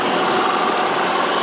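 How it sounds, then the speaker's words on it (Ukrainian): A wood-gas tractor engine converted to run entirely on firewood runs at a steady idle, its continuous mid-pitched rumble loud and unbroken throughout. "Такий ось газогенераторний трактор"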